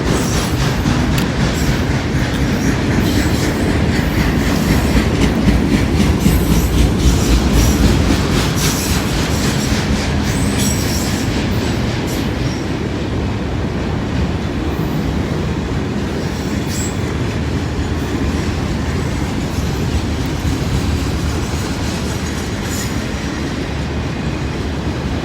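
A long Conrail freight train hauling auto racks rolls past close by, loud and steady, with rhythmic clickety-clack of wheels over rail joints and occasional high wheel squeals.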